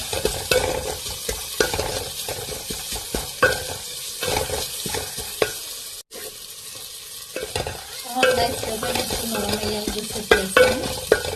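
Tomatoes being stirred in a sizzling frying pan for French dal, with repeated close scraping and clattering strokes of a spoon over continuous frying hiss.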